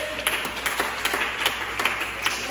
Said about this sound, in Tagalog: Ang pagpapalakpak ng ating mga kamay.